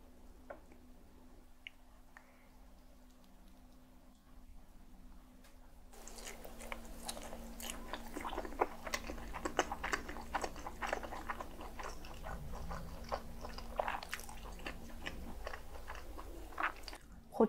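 Spam kimchi stew and sausages are bitten and chewed close to the microphone, soft quiet mouth sounds at first, then steady wet chewing with crunchy bites and smacks over a faint hum.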